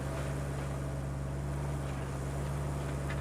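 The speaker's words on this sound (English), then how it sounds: "I really hate the sound of this truck." A truck with a gas engine idles in a constant, steady hum with a low droning tone, continuous and unchanging, with no talk over it.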